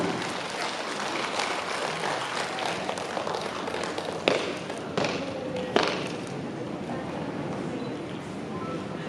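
Applause from a crowd at an inauguration ceremony for a regional organization's leadership, a steady dense patter of clapping lasting throughout, with a couple of louder sharp claps standing out midway.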